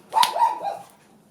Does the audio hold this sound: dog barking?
yes